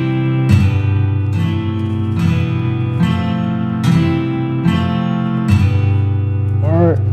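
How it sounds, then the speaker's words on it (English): Guitar chords triggered from Specdrums rings ring out as six evenly spaced strummed chords, each sustaining into the next, loud and close, with a short voice at the end. "For instance, guitar chords."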